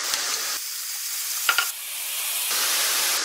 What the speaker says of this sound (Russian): На разогретую сухую сковороду я высыпала грибы. И обжариваем их, периодически перемешиваем в течение 4-5 минут